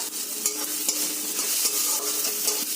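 Grated ginger stirred into a sizzling tomato masala for an okra dish, a loud, steady frying hiss right up close with repeated scraping stirring strokes throughout and no talking.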